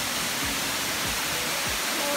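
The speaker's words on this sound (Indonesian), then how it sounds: "Air terjun Proklamator ini merupakan salah satu tempat wisata yang berada di kawasan Lembah Anai" The Proklamator waterfall in Lembah Anai, West Sumatra, pours as a loud, steady broadband roar that fills the whole short stretch, with faint low thumps beneath it.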